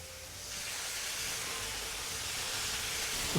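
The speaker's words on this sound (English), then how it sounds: "just getting a nice little sizzle in there, getting all those flavors moving" A steady hiss of chicken sizzling on a hot flat top grill, fairly quiet and continuous, with no talking.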